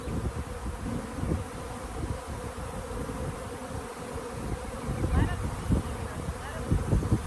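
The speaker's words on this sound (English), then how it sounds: "They're landing on a swarm trap." An agitated swarm of honey bees buzzes densely around a swarm trap outdoors, a constant close droning hum with individual bees zipping past the microphone and light wind noise.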